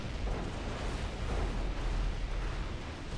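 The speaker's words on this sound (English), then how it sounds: "10 singularities. Up and running. All in the same explosion." Singularity reactors in the strategy game Zero-K detonate together, making a dense, continuous low roar of explosions that stays loud and steady throughout.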